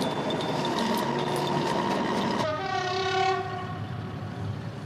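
A British Rail diesel multiple unit train rumbles across a bridge with a sustained horn blast that cuts off midway, followed by a whistle-like tone over steady rolling noise.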